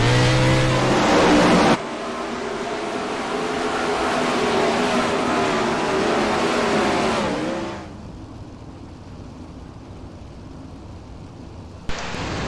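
World of Outlaws sprint cars race at Knoxville, engines roaring and revving loudly, with a car sweeping past before the sound drops away to a distant hum and a brief sharp burst near the end.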